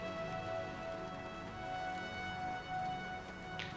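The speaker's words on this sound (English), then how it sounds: "It's like you hear a little bit of rain, but I don't see any rain." Light rain patters steadily in the Blade Runner Enhanced video game, a soft, even hiss under faint tonal music, with no voices.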